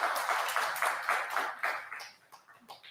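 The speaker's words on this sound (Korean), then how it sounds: "배고프니까 빨리 끝내라고 박수를 계속 쳐주시는 것 같아요." Audience applause at a Buddhist dharma talk, steady hand clapping that rises and falls in rhythmic bursts, faint and somewhat distant, fading out toward the end with no voices over it.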